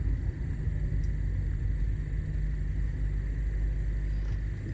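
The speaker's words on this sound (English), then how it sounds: "So the gas engine is running." Inside a 2016 Ford Fusion Energi plug-in hybrid with the gas engine running, a constant low rumble and hum fill the cabin, steady and unchanging, with faint road or traffic noise over it.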